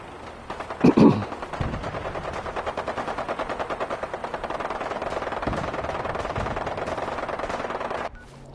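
Rapid automatic gunfire in Fallout 4, a long sustained burst of evenly spaced shots, loud and close, starting after a brief heavier blast and cutting off abruptly near the end, with no talking.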